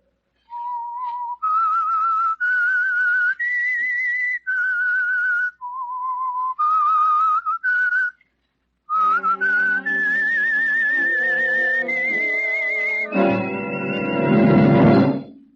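A person whistles the clear, slow theme of The Whistler radio program, held notes with brief gaps, then a fuller musical chord swells in beneath and builds toward the end.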